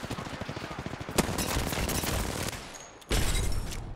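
Automatic gunfire in the video game Apex Legends on the Olympus map, loud and rapid with a dense rattle of shots, a brief lull, then another sharp burst.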